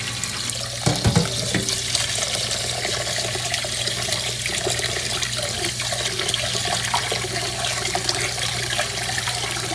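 Basmati rice being rinsed under a running kitchen tap, a steady loud gush of water splashing into the pot alone throughout, with a brief clatter near the start.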